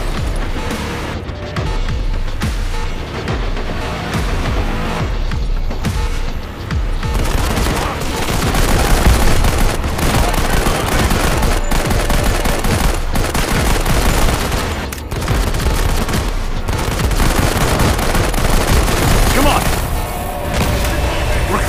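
Rapid automatic gunfire crackles almost nonstop in Modern Combat 5 as power cells are shot, loud dense bursts with brief gaps, layered over a busy background din of battle.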